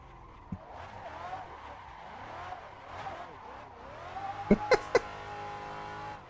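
Car tires spin and squeal in a racing video game on 295 front tires, engine revving under a steady whine with several sharp skid bursts near the end, and someone talks over it.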